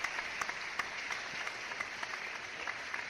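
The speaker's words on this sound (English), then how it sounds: "One more round of applause, man." Audience applause for comedian 404 Blac on a podcast, a modest burst of claps that is fairly faint and thin, with no talk over it.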